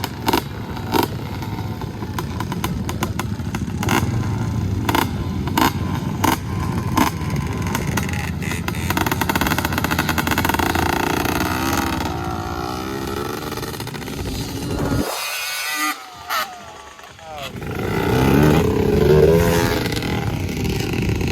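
A two-stroke Yamaha 250R quad rips across sand dunes, its engine buzzing and revving up and down with a brief drop-off before it roars back up loud.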